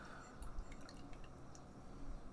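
Hazy IPA beer pouring into a pint glass, a soft continuous liquid fill with small drips and glassy splashes, close and steady throughout.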